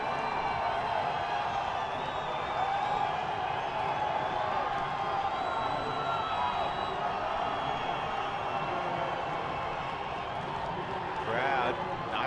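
A big crowd at a cold-weather spring baseball doubleheader gives off a steady, excited murmur with scattered claps and whoops, heard at a distance beneath a commentator talking.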